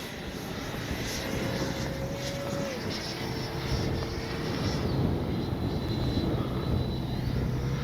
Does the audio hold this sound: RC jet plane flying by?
yes